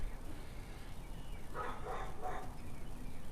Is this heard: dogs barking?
yes